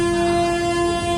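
A Rapti Sagar Superfast Express train running from Ernakulam to Barauni gives a steady, loud rumble with sustained tonal droning throughout a short moment.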